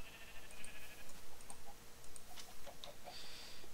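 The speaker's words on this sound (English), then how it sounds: "where did all these sheep come from?" Sheep bleat repeatedly in the Minecraft video game, several short wavering calls at moderate loudness over a steady background hum with no talking.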